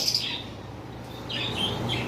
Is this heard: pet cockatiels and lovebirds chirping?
yes